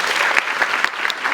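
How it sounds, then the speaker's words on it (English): A crowd claps together in short, loose bursts, several sharp group claps standing out from a continuous spatter of hands in a college hall. "I want you to clap once."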